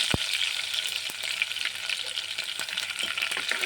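Curry leaves, garlic and mustard seeds sautéing in hot oil in a pan for a Konkani curry, a bright continuous close crackle and sizzle with a few sharp pops, no voices.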